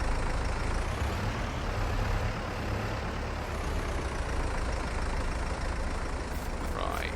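A tractor engine in Farming Simulator 22 drones steadily in the foreground with a constant low rumble throughout, and a brief higher tone appears near the end.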